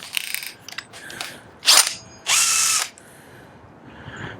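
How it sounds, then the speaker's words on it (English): PVC pipe being cored out with a power tool for a rocket-propelled Nerf dart build, a few short rattling bursts followed by a loud half-second whine, then no sound for a moment before another steady whir. "Let's just start coring this out."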